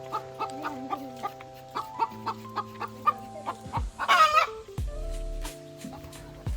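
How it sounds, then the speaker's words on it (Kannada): A chicken clucks outdoors at a rural roadside stop, with a string of short, regular clucks. A louder flurry of clucking near the middle gives way to quieter, drawn-out tones. "ನೋಡಿದ್ದು ಕೋಳಿ."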